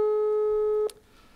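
A steady electronic telephone tone while a call is being placed, holding one pitch loud and close for under a second before cutting off with a click into quiet room noise.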